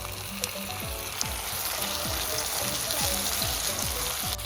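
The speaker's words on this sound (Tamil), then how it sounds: "இப்போ அடுத்ததான் நான் அந்த வெட்டி வச்சுருக்கிற தக்காளி பழத்தை போட போகிறேன்." Tomatoes sizzle in hot oil with frying onions for a crab curry, a steady dense crackle and spatter close by with faint rhythmic low tapping underneath, no voices.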